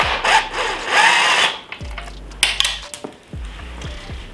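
Tool work removing 5mm fasteners from the white plastic panels of a Honda CRF300L motorcycle, with close scraping and rubbing followed by several light clicks and knocks of fasteners and parts.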